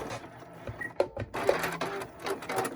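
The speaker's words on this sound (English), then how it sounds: "So my string is poking out in that middle and I'm just sewing it straight down." A home sewing machine runs a straight stitch down a fabric face mask, short uneven bursts of whirring motor with small clicks and pauses between runs, fairly close and alone.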